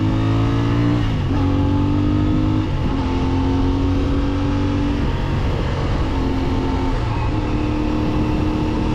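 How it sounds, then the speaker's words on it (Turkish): A CFMoto 450MT motorcycle accelerates hard while climbing a mountain road, its engine loud and close throughout, with rising revs and brief dips at gear changes. "hafiften şöyle tırmanışlarda bir gaz açalım beraber"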